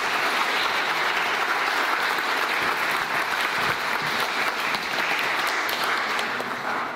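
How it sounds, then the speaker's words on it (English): Sustained audience applause at a young scientists' conference, a full even wash of clapping from a large crowd that carries on without a break for about seven seconds. "Can we have a final round of applause"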